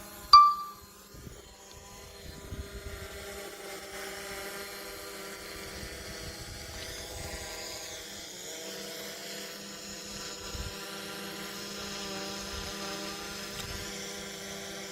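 DJI Mavic Pro drone motors humming steadily after takeoff, a continuous high-pitched whine with shifting tones, fairly faint and sustained throughout, with a brief louder burst at the start.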